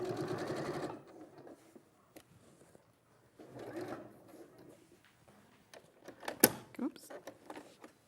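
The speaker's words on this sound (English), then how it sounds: "you love sewing through foam anyway" Sewing machine stitching through fusible foam for a quilt, a dense rapid burst of needle strokes in the first second, then quieter handling noises and soft talk.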